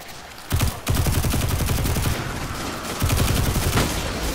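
Gunfire from Vex enemies in the video game Destiny 2, dense rapid bursts of shots forming a loud continuous fusillade that briefly drops out and then resumes.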